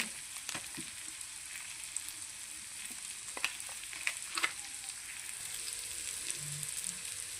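Chili powder and coriander frying in oil for paneer bhurji, a low steady sizzle broken by a few soft stirring clicks and scrapes, with no talking.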